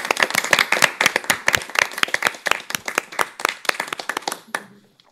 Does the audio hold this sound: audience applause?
yes